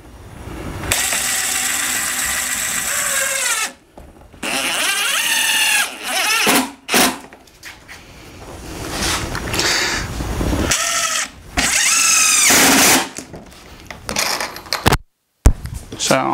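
Power drill driving screws into a wooden beehive body during hive assembly, with several loud bursts of whirring separated by short pauses and clunks, and a voice talking between them.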